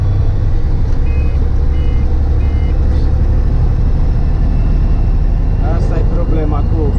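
An old truck rumbles with a steady low engine drone while the driver shifts gears, the tone changing briefly near the end; faint beeps sit high above the engine noise.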